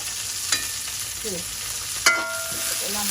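Food with green chillies sautéing in a pan gives a continuous close sizzle while being stirred, with two sharp metallic clinks of the spoon against the pan and no talking.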